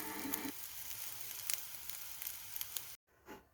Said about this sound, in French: Une poêle, un petit peu de beurre dans le fond et ensuite vous venez bien dorer les 2 faces de votre préparation